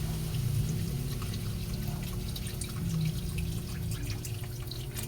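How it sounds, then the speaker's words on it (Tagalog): Water pours steadily into a pot of pork to make batchoy broth, a close continuous splashing and trickling with faint drips throughout and no talking. "Pag ganito na ang ating baboy, lagyan na natin siya ng tubig."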